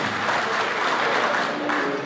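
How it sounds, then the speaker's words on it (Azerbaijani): A concert crowd at a folk music event in Saratov gives dense, continuous applause, loud and enveloping from many hands at once, with no gaps. "sizlərdən ürəkdən alqışlar istəyirəm"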